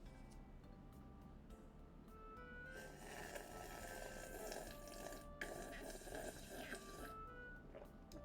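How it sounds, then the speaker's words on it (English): Running water from a video game sounds faintly and continuously, a low steady splash and trickle that swells in the middle. "Water. Good water."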